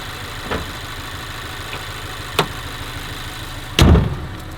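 A vehicle engine running at a steady idle, a low even rumble with a few brief clunks and one louder knock near the end, heard close with no talk over it.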